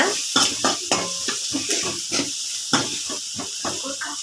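Shallots and five garlic cloves sauté in a pan for a Tamil fish curry, giving a steady bright sizzle with repeated scraping stirs of a utensil across the pan at close range, no voices.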